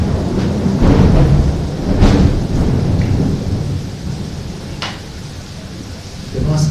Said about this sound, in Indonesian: hujan deras saat sekarang ini